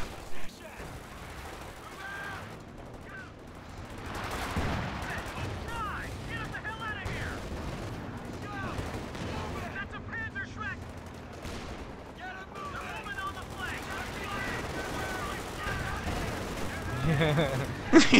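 Gunfire in the Company of Heroes game, with Rangers fighting Volksgrenadiers. Scattered rifle and machine-gun bursts with distant booms continue throughout, under excited players talking over the battle.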